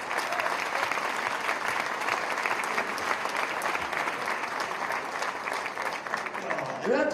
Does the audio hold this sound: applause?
yes